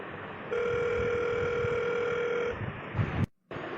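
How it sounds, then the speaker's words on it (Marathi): A telephone call is placed, with a steady tonal ringback tone for about two seconds, then some handling noise and a brief cutout. "थांब, मनाला फोन लावू आपण."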